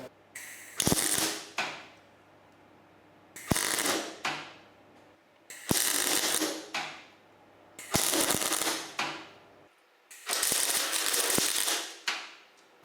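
Toyota MR2 engine mounts are welded in short bursts, each a loud crackling hiss followed by a pause, with a faint hum between bursts and no talk.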